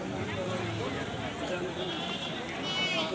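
A goat bleats faintly at a large cattle and goat market, under a busy crowd. People talk close by over the bleating.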